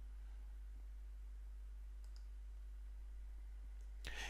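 A computer mouse gives a few soft, sparse clicks over a faint, steady electrical hum, ending with one sharper, louder click.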